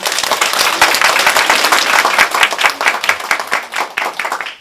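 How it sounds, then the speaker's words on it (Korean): An audience at a business presentation seminar claps steadily and loudly throughout, a thick wash of many hands with no voices over it. "박수 한번 치지 않을래요?"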